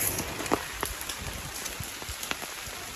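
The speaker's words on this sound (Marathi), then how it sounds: "याच्या टायमाला हा पाऊस" Steady rain pattering on a surface, with scattered louder drops landing close by, continuous and moderately loud.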